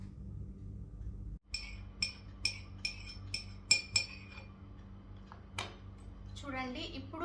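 A spoon stirring a mulethi serum mixture in a glass, sharp metallic clinks striking in a quick regular series, then scattered scrapes, heard close over soft background talk.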